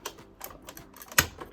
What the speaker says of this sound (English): I'm just going to run that through my die cut machine